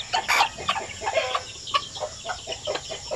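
Zampen chickens cluck and chatter in a group, a close, busy run of short overlapping calls from several fowl with no talking.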